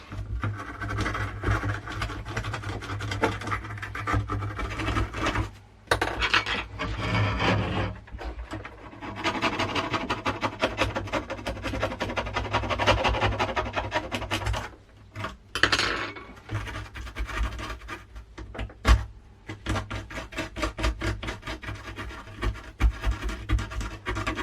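A fiberglass brush scrubs the connector of an Amiga A600 computer, giving close, busy scratching and rubbing strokes that run continuously with a few brief pauses.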